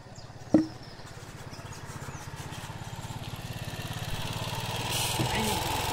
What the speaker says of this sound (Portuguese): Desliga essa moto aí, rapaz.